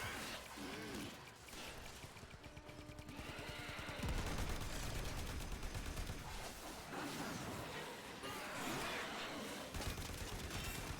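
Sustained bursts of automatic gunfire from a Warframe boss fight, dense and continuous with heavy impacts, growing louder midway and running almost without pause under game noise.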